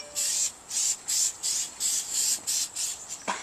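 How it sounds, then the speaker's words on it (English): Cooking spray spritzed onto an old outdoor grill grate, a run of about eight short hissing bursts in a steady rhythm, close and moderately loud, with a light clatter at the end. "you want to use some cooking spray on your grill"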